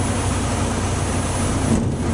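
A light airplane comes in on a power-off approach to land downtown in Springfield, giving a steady, fairly loud low drone and rush that holds evenly throughout with no talking.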